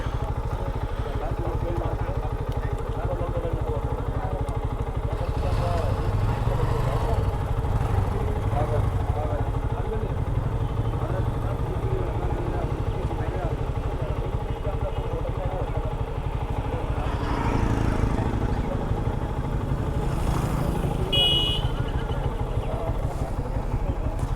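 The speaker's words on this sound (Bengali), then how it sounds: "আমরা ঢাকা থেকে সেই ভোর ছটা থেকে বাইক রাইড করতেছি এখন পর্যন্ত" Motorcycle being ridden, a steady low engine drone heard continuously from close by, with some clatter and occasional louder bursts, and speech over it.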